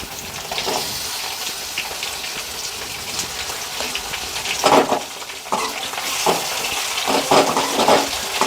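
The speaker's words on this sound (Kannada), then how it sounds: "ಇವಾಗ ಟೊಮೆಟೊ ಹಣ್ಣು ಹಾಕ್ಕೊಂಡು ನೀಟಾಗಿ ಫ್ರೈ ಮಾಡ್ಕೊಳ್ಳೋಣ." Chopped tomatoes and onions frying in a pan for paneer masala gravy, a steady broadband sizzle with scattered scraping stirs and clinks throughout, close and fairly loud, no talk.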